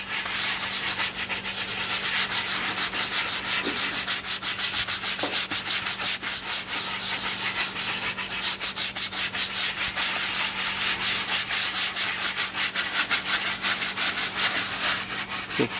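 Scrubbing a Toyota Alphard car seat cushion during detailing, a steady close rasping rub that runs continuously without pause, with a constant low hum underneath and no talking.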